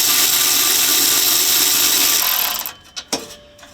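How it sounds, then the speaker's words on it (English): A power tool drives a 13mm socket to snug an exhaust clamp on a Jeep Gladiator, giving a loud continuous whir that cuts off after about two and a half seconds, followed by a few short bursts and clunks. "using a 13mm socket, I'm just going to loosely secure this clamp in place"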